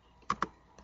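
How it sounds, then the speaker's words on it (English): Two quick, crisp keystrokes land on a computer keyboard, close and fairly quiet, with a softer tap trailing just after. "We type in the following."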